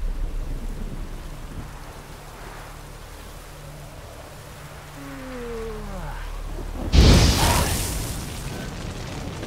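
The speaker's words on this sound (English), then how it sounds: "A storm, damn it." Thunderstorm in The Witcher 3 game world, steady rain hiss throughout with a sudden loud thunder crack and rumble near the end, preceded by a brief rising tonal sweep.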